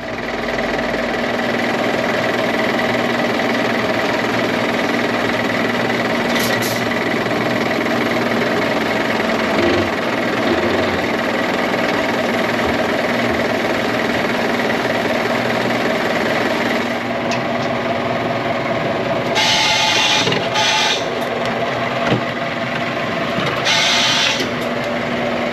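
A truck engine drones steadily while driving in snowy Norway on the way to hitch a trailer, a constant loud rumble with a few brief higher-pitched bursts, no one talking.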